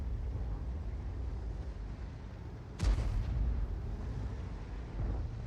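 A single heavy tank cannon shot in a tank battle video game, booming midway through a low rumbling engine and battlefield drone, with a faint after-thump a couple of seconds later.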